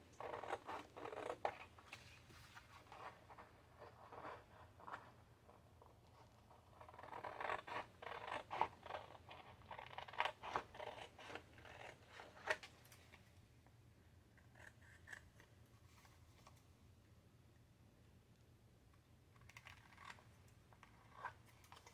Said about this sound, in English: cut it with the scissors